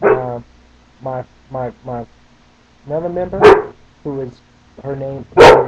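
A dog indoors at a home webcam barks twice, loud, sharp and close, cutting in between stretches of a person talking.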